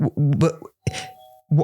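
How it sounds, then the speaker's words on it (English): A doorbell chimes with a brief sustained tone indoors during a Mandarin and English podcast recording, heard between bits of close speech. "The doorbell rang."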